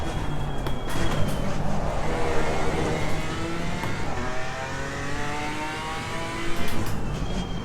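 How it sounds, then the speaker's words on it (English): BMW M4 GT4 race car in Assetto Corsa Competizione sliding through a corner, its engine note droning steadily and close with shifting revs and faint tyre scrub, loud and continuous throughout with no talk. "Just sliding, just warming that front tyre up a bit."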